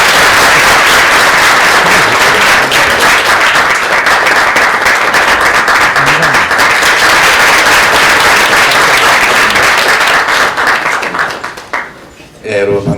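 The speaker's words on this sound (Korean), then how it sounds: "박수 한번 주시면 감사하겠습니다" A lecture hall audience of university economics students gives loud, sustained applause to welcome a former minister before his talk, the dense clapping continuing evenly and then thinning out abruptly near the end.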